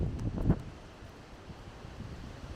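Strong wind from Hurricane Fiona at Holland Cove, Prince Edward Island, a steady low roar with microphone buffeting, one louder gust at the start and a dull surf-like rumble beneath.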